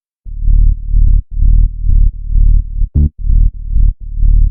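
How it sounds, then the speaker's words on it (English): A Serum sub bass preset built from a saw wave with heavy drive and a low-cut filter, loud deep distorted bass notes pulsing in a steady rhythm with short gaps, playing alone. "This is just a sub preset from Serum."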